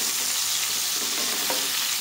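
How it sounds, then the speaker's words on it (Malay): Steady sizzling of green chilies sautéing in a pan, a continuous hiss with faint stirring scrapes, no voices. "Kita tumis dulu lada hijau ni sampai dia layu lah."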